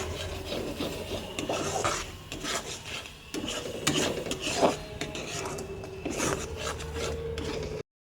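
Paneer and vegetables with chili powder, green chilies and coriander powder being stirred in a pan at home: continuous scraping and rubbing of a spoon against the pan, steady and close, with no talk.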